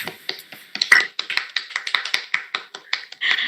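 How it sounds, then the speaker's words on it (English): A comedy show audience starts to clap, with a few distinct, irregular claps spaced out at first rather than a full ovation, fairly close and moderately loud. "The audience begins to clap"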